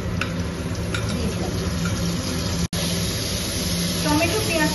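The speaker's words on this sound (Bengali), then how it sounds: "টমেটো পেঁয়াজটা ভালো করে নেড়ে ছেড়ে ভেজে দিয়ে এরপরে মশলাটা দিয়ে দেবো।" Onion and chopped tomato fry in a pan for an egg curry, giving a steady sizzle with occasional stirring scrapes, while a person talks over the cooking.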